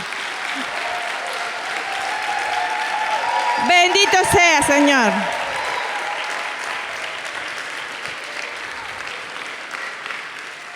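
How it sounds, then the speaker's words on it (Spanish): A church congregation breaks into sustained applause for the Lord during a sermon, a steady wash of many clapping hands running throughout, with voices calling out and a brief sung or shouted phrase rising over it midway. "Y un aplauso para el Señor"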